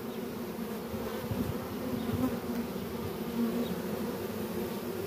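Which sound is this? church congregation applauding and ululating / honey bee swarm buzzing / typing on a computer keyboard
honey bee swarm buzzing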